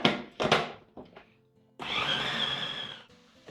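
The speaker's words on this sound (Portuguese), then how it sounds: "Vou triturar no processador." A food processor whirs loudly in short pulses, then runs steadily for over a second, chopping chicken with a rough mechanical grind.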